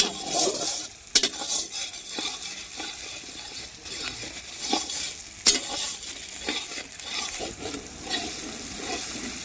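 Ginger frying in hot oil for a large batch of meat, stirred with a big two-handed spatula: a continuous sizzle with sharp metallic scrapes and clanks of the spatula against the pot at irregular intervals.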